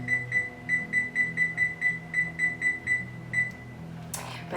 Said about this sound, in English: We're gonna set our timer for 22 minutes.